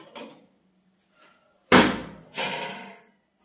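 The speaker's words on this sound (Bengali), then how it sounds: "এবার আমি ঢাকনা খুলছি।" A metal lid comes off a cooking pot with a sudden loud clank and ring, followed by a rattling clatter as it is set down, after a few faint knocks in an otherwise quiet kitchen.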